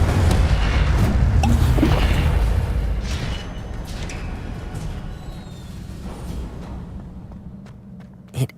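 Incendio fire spell cast in Hogwarts Legacy: a loud whooshing, booming burst of flame fills the first three seconds, then fades into a lower rumbling roar, with a sharp thud near the end.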